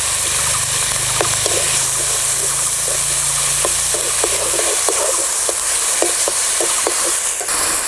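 Onion paste goes into hot oil with whole cinnamon, cardamom, pepper, cloves and bay leaves for a spicy chicken roast, setting off a loud, continuous close sizzle with scattered spoon clicks and a low hum that drops away midway.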